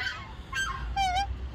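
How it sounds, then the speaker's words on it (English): Geese near swans at Dawlish give a few loud, nasal honks, two or three close calls in quick succession against faint outdoor background noise. "And noisy geese."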